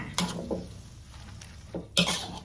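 Grated coconut filling stirred in a pan over medium heat, a few scraping strokes and clinks of a utensil against the pan over a soft low sizzle, close by and without talk.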